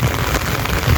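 Heavy, continuous rain pours on a flooded farm. A loud, dense, unbroken hiss and patter comes from close by, with no voices.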